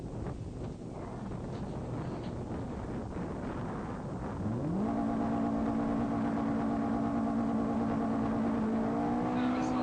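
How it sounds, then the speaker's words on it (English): A Mazda Miata's engine at a drag-race start line revs up midway and holds a steady, rising drone, heard through heavy wind buffeting on the microphone. "as he revved the car up, it started to creep forward on him"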